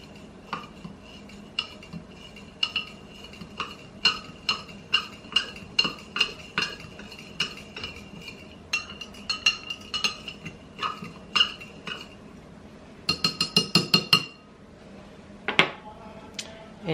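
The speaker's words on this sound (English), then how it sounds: "Now I'm going to I am going to stir it." Spoon clinking and scraping against a jar while stirring rice water mixed with drops of oil, a steady run of sharp close taps that ends in a quick flurry of rapid clinks, no talking.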